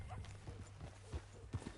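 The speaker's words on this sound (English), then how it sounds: "That a new horse?" Horse hooves clip-clop in the open-world Western game Red Dead Redemption 2, a short run of hoof strikes with two louder thuds near the end, heard amid game ambience.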